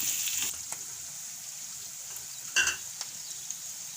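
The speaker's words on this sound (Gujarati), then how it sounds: "તો એક મિનિટ આપણે ડુંગળીને સડવા દે" Onions frying in oil in a pan, giving a steady soft sizzle with a few faint clinks and one brief louder scrape or stir partway through.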